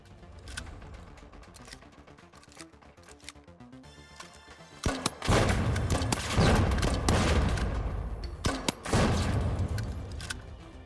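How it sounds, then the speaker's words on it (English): Pump-action grenade launcher in the shooter game The Finals firing repeatedly, a rapid run of sharp blasts that swells into loud, dense bursts of impacts over the second half with no talking. "Next is the pump-action grenade launcher, an interesting shotgun-style impact launcher that is quite spammable but has high drop-off"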